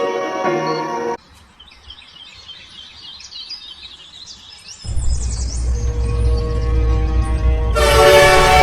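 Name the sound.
train to Mumbai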